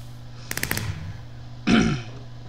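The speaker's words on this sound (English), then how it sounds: "Well, there's some fireworks," Fireworks outdoors: a rapid string of four or five crackling pops, then, after a short pause, one louder, fuller bang that trails off briefly.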